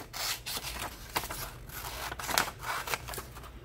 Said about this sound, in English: So we're going to cut it right here.